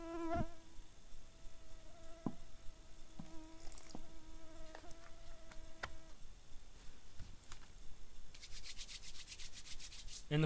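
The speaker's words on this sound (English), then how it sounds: "That mosquito better get off my camera." A mosquito whines close to the camera at a bushcraft stick hut campfire, a thin high buzz under sporadic snaps and taps, with a sharp rasping burst near the end.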